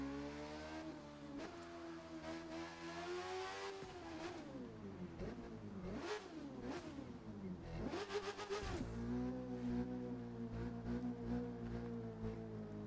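A car engine in The Crew 2 racing game revs up during a test drive, its pitch sweeping up and down through several gear shifts, with a sharp shift and louder steady drone near the end, close and continuous with no talking.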